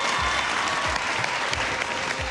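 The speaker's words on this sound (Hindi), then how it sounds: "बहुत सारी तालियां अफशा अहमद साहिबा के लिए" Loud, dense applause from a television studio audience at a Pakistani Independence Day show, steady and enveloping, with a few heavier claps standing out near the microphone.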